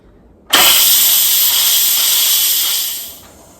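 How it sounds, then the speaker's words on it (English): A pressure cooker holding goulash is quick-released: after a near-silent moment, a sudden loud, close, steady hiss of venting steam bursts out, holds for a few seconds, then tapers off. "I'm gonna push the button right here and we're gonna vent out the steam."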